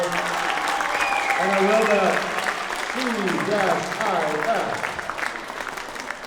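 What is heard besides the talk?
audience applause for 7th graders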